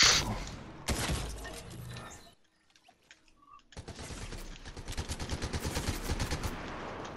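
Rapid video-game gunfire from Fortnite crackles in loud bursts, breaking off into a brief quiet gap before a fast rhythmic string of repeated shots resumes close and sharp.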